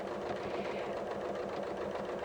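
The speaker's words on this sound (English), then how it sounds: "And I'll just keep sewing." Sewing machine stippling a quilt in free-motion quilting, a steady close-up mechanical hum with fast, even needle pulses running without pause.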